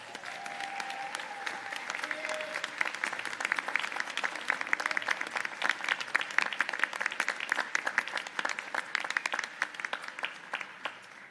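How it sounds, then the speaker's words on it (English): Sustained applause from a large crowd at a Hobart graduation ceremony, dense steady clapping throughout with a few brief tones early on. "express your gratitude to those who have supported you with a round of applause."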